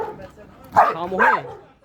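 A pit bull dog barks twice in quick succession, close and fairly loud, over a quiet background with faint voices.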